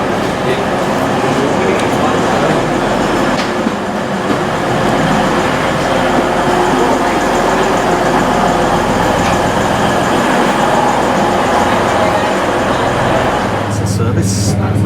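Interior of a passenger train travelling toward Darlington in northern England, a loud continuous rumble of wheels and carriage with steady low drone and rattles, a brief sharper burst near the end.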